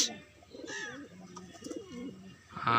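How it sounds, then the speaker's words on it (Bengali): A ghee-eyed Kashmir doma pigeon coos softly nearby, giving several low, throaty rolling coos in a slow rhythm with short pauses between them, with faint higher chirps near the beginning and end. "এটা হচ্ছে আমাদের ঘিয়া চোখের কাশ্মীর দোমা"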